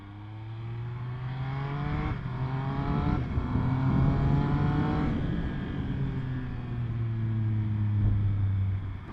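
A 2021 Triumph Speed Triple RS engine running hard, its steady growl broken by a few quick throttle blips as it downshifts, loud and continuous throughout.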